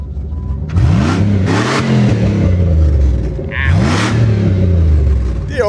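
A car engine nearby is given gas in two revs, each climbing to a roar and falling back to idle, with a brief voice between them.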